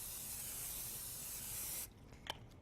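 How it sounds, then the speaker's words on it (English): Cooking spray hisses from a can onto an 8x8 pan in one long, close, even burst that cuts off sharply, followed by a faint click of the can. "An 8x8 pan that we're going to spray with cooking spray."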